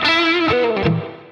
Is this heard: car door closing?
no